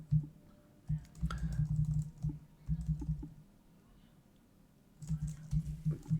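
Computer keyboard typing in bursts of quick soft keystrokes, close and moderately quiet, separated by brief pauses with a faint low hum underneath.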